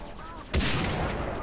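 A single sharp gunshot in a video game breaks out after quiet background, followed by a sustained rumbling echo and crackle.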